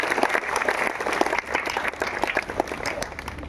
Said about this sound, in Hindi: आपकी जोरदार तालियों के बीच आशीष कुमार जी।